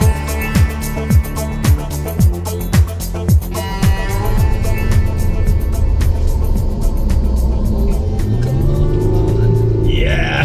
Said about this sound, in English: The Amarok seriously impressed me out in the dunes.